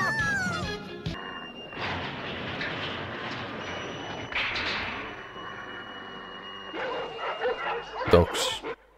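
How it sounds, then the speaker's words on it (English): Dogs barking in a Dragon Ball anime episode, a run of yips and bow-wows under a busy cartoon soundtrack with voices speaking over it, moderately loud. "Dogs."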